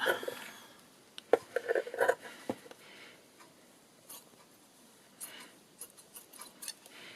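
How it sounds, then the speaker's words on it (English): Scissors snip through a dried, paint-stiffened baby wipe, cutting it in half in a few sharp, close crisp snips and rustles, with quiet pauses between bursts. "So I'm just going to cut that one in half again."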